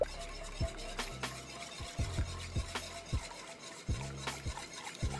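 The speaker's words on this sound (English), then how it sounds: "move that roux around" A spoon works a blonde roux around a pot for a gumbo-style dish, giving rhythmic, close scraping strokes about every half second over a faint sizzle, with no talking.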